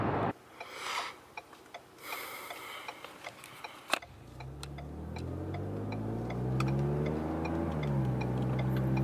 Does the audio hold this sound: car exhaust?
yes